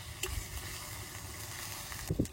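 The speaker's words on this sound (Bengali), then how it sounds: "পেঁয়াজ বাটাটা একটু ভালো করে ভেজে নেব" Onion paste frying in oil for a Bengali tangra fish curry, a soft steady sizzle close by with a few brief stirring clatters, no talk.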